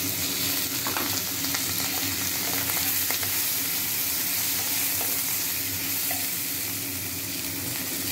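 Chopped onion and capsicum fry in hot oil with a loud, constant sizzle. Occasional scraping stirs run through the steady crackle from start to finish.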